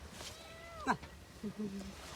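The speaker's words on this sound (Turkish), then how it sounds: "Kedi sizin mi?" A cat meows, a faint, short call in a quiet outdoor setting, followed by a couple of softer, lower sounds.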